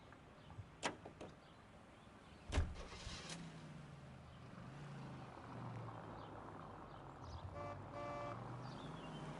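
A car starts up in L.A. Noire, a 1940s Los Angeles crime video game: a door thunks, the engine cranks and catches into a low idle, with short tones and clicks, all faint and distant.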